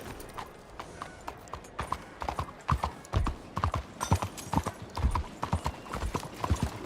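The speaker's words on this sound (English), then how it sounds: "Look at that horse there." Horse hooves in the video game Red Dead Redemption 2 clip-clop at a steady walking rhythm, close and fairly crisp, with no other clear sounds around them.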